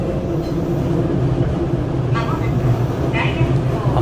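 A former subway train on a Tobu Railway single-track mountain line grinds around a curve, a steady rolling drone with a growling wheel-on-rail roar and a brief high squeal, heard from inside the car.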